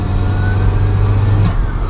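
Turbocharged Toyota MR2 engine under boost, a loud steady drone with a strong low hum and a faint rising whistle near the end, close up and continuous with no talking.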